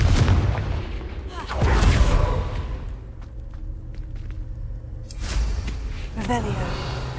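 Confringo fire-spell explosions from the Hogwarts Legacy video game, with a few heavy booming blasts bursting out between quieter rumbling stretches while a voice talks over them.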